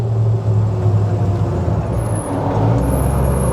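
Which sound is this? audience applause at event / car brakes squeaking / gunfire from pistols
car brakes squeaking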